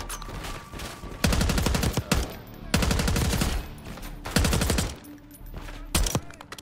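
Automatic gunfire from Call of Duty Black Ops 6 gameplay, with repeated bursts of rapid close shots, each lasting about a second, separated by short pauses.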